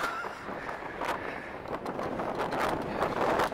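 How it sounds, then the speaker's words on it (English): Gusty wind buffets the microphone with a steady rumbling roar that rises slightly toward the end, with no voices, on the West Bank Promenade by the viaduct in Widnes. "it's a bit windy. Cover the mic."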